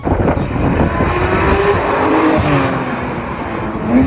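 A loud Porsche 991 GT3 RS engine roars and revs close by, its pitch rising and falling with gear changes over road and tire noise.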